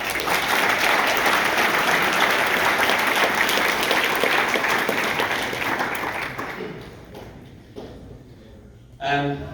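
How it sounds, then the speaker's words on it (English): Loud, sustained applause from a large crowd at an academy football team banquet, dense clapping that gradually thins and fades toward the end, with a brief burst near the close. "they deserve a massive round of applause for that achievement"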